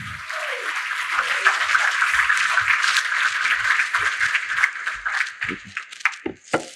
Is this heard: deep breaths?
no